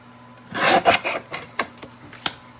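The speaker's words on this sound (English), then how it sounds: "So I'm going to trim this 1/4 of an inch down." A paper trimmer cuts cardstock for a card: a short scraping rasp of the blade, followed by a few lighter rubs and taps, close and fairly loud, with no talking.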